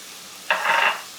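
Thinly sliced garlic hits a hot pan and breaks into a sudden, bright sizzle that holds for about half a second and then fades, close up with no talking.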